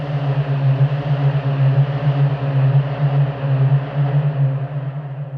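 A steady synthetic drone with a low hum and airy, swirling upper layers, a whirling wind effect from a Nordic Winds plugin, sustained and even throughout, with no voices.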